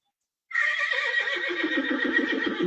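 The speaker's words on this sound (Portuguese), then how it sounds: "Voltaram a relinchar." Several horses neigh and whinny loudly in a continuous overlapping chorus after a short silence, with faint hoof clip-clop, used as an audiobook sound effect.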